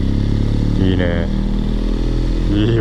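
A BMW R1200GS motorcycle engine with a Yoshimura R77 aftermarket exhaust rumbles loudly nearby, rising briefly in a couple of revs, while people talk over it.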